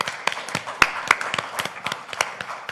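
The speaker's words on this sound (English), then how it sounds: "Hold your applause for all these wonderful people up here" A church congregation clapping for the volunteers at its fish fry, with a brief burst of dense applause from many hands in a room, close and fairly loud, no voices.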